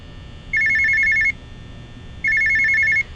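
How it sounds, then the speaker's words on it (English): A desk telephone in the Five Nights at Freddy's game story rings in two electronic trilling bursts, each under a second long with a pause between, clear and close over a quiet background. "the phone comes to life and begins chirping at you from your desk"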